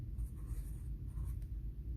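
A pencil shades on paper with a steady, soft scratching rub, quiet and close, with no talking.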